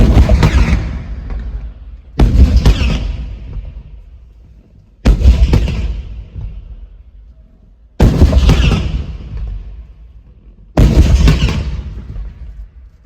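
Ceremonial cannons fire five loud, booming blasts about every two to three seconds during a Dasara fireworks rehearsal held before elephants and horses. Each blast rolls away in a long fading rumble before the next shot.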